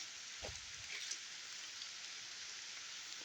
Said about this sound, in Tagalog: Nabutan kami ng malakas na ulan.